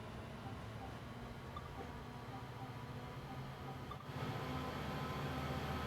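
Diesel locomotives working in notch 8 haul a large freight train, a faint, steady rumble with rolling rail noise that swells a little after a brief dip.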